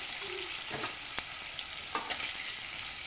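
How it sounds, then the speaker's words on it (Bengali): Potato pieces with a little turmeric fry in oil for a pabda fish curry, giving a quiet, even sizzle broken by a few sharp stirring scrapes and clicks, with no talking. "প্রথমে আমি আলুগুলি ভেজে নেব অল্প পরিমাণ হলুদ দিয়ে দেবো"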